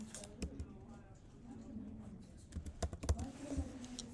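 Quick close clicks from a computer keyboard as text is typed, a short cluster of taps heard over soft room noise after a stretch of quiet speech.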